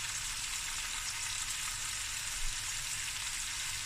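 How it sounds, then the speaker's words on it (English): Fresh curry leaves and onions frying in a pan give a steady, even sizzle that is fairly close and continuous throughout, with no talking. "And now this is just going to fry"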